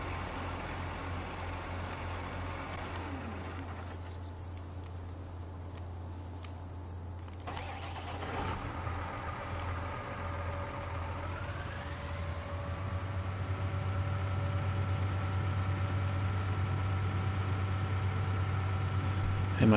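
Engine sound from a tractor with a front loader in Farming Simulator 19: a steady low drone whose pitch rises as the engine revs up partway through, and which holds a higher, louder hum to the end.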